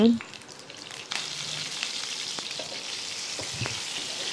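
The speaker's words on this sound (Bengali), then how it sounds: "এবার পটলগুলো আমি হালকা বাদামি করে কিছুক্ষণ ধরে ভেজে নেব" Pointed gourd (potol) pieces frying in oil for a Bengali doi potol, a steady close sizzle with occasional stirring clicks and scrapes throughout, no talking.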